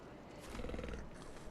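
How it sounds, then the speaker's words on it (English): Low, rough guttural breathing rumbles from a creature, a growling exhale swelling and fading over a moment with no voices. "So we hear the deep guttural breathing there of one of those monsters."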